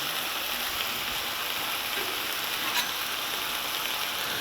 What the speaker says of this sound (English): I can cook the burgers on one side